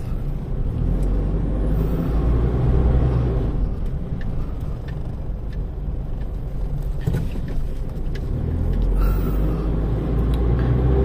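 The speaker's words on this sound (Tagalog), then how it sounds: "The sound is like a truck." A truck-like vehicle engine at a market gives a steady, loud low rumble throughout, with a few brief clanks and hisses over it and no talking.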